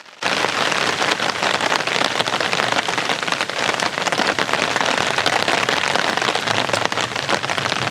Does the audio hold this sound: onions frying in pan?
no